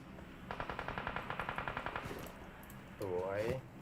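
Rapid automatic gunfire from a PUBG Mobile match: a steady burst of roughly a dozen evenly spaced shots, fairly close, followed by a short rising whine near the end.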